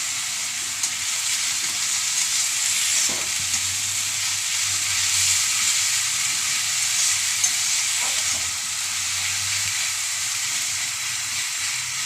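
Chopped onion fries in a pan, a dense, steady sizzling hiss close by, with a couple of faint spatula scrapes and no talking.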